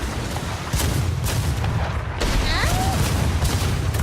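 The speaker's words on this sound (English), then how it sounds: "Oh, they're firing, hold on, they're oh, firing. they are shooting at us." Cannons firing in a naval ship battle in a video game, a series of loud booms and heavy blasts over rumbling background noise, with a brief whistling sound partway through.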